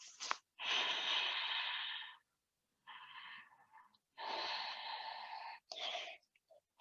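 Long, breathy exhalations during a yoga head-to-knee forward fold, several drawn-out breaths in a row separated by short pauses, close and fairly loud with no talking.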